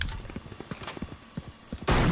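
Repeated gunfire in the Valorant video game: a quick run of sharp shots at an uneven rhythm, moderately loud, ending in a dense, louder burst of noise.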